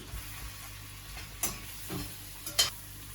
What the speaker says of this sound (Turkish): Tavuklarla beraber malzemelerimizi böyle kavurmaya devam ediyoruz